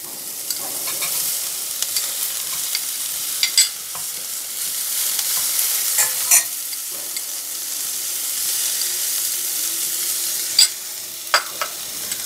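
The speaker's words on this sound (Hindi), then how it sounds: "अदरक डाल के मैं मिक्स कर रही हूँ। और टमाटर डालूँगी।" Ginger and tomatoes fry in a pan with little oil for a bhindi sabzi. A constant close sizzle runs throughout, broken by scattered scraping clicks as a spoon stirs.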